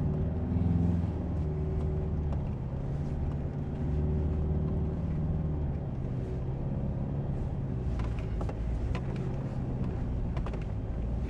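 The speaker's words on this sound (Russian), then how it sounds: "Дизель на первой передаче тянет шикарно." A Mitsubishi Pajero Sport diesel engine pulls steadily in first gear on an off-road track, giving a low continuous rumble from inside the vehicle for about eleven seconds with no talking.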